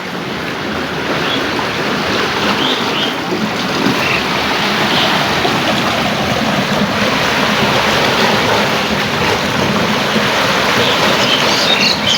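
Water rushes through a sluice gate in a village by the Padma, a loud, steady roar with no pauses or voices.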